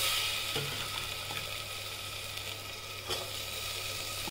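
Peas and potatoes sauté in masala, crackling with a dense, even sizzle that holds steady and close throughout, with a faint scrape or two.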